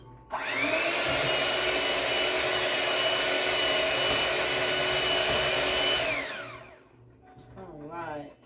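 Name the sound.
electric hand mixer mixing banana bread batter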